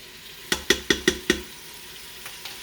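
White vinegar is poured into a hot pan of floured chicken, followed by five quick sharp clacks of a utensil against the pan and two fainter ones, up close.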